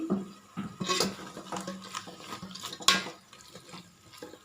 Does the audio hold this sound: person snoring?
no